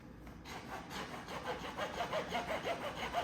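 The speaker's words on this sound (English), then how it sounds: "I'm actually gonna use a hacksaw because I think it's gonna be a lot easier than a Dremel." A hacksaw cuts through a metal light bar bracket during an S8 light bar install on a Tacoma, with a steady back-and-forth rasp of repeated strokes growing more rhythmic and close.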